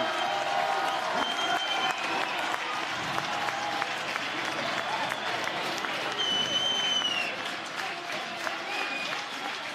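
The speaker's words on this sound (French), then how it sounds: "Je vous laisse écouter l'ovation." A crowd gives a sustained ovation as Niki Terpstra rides into the Roubaix velodrome at the 2014 Paris-Roubaix. Loud, steady applause and cheering fill the whole stretch, with whistles rising above the roar.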